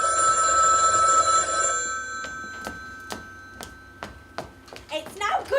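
A telephone rings on a stage set during a theatre rehearsal of a farce, a loud sustained ring at first, then sharp separate clicks and knocks follow and a voice begins at the end.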